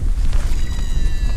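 Strong wind buffets the microphone with a low, continuous roar, gusting unevenly throughout.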